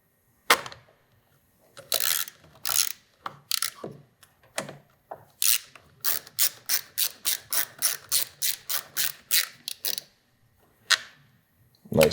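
A ratchet tightens a fastener on the ECU of a 2018 BMW S1000RR sportbike, giving a quick burst of clicks, a pause, then a long steady run of sharp, evenly spaced ratcheting clicks, close up with no talk.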